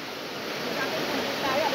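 Floodwater from the Rizal highlands rushes down a swollen river during Storm Carina and monsoon rains in Quezon City, a steady, broadband roar of fast-moving water heard from nearby, gradually swelling slightly louder.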